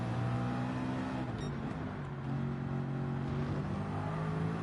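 A racing car engine in Gran Turismo 7 during Le Mans 24 Hours, held at a steady high drone with sustained tonal whine and little change in pitch, loud and alone.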